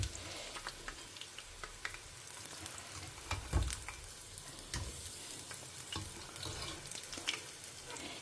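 Okra (ladies finger) frying in hot oil makes a constant crackling sizzle with bursts of stirring and a louder clatter midway, close up and alone.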